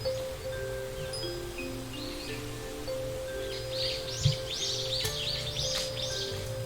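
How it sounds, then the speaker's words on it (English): Several birds sing and chirp outdoors beside rough wooden timbers, with bright repeated phrases rising through steady rustling background, moderately distant and fairly quiet throughout. "Listen to those birds going."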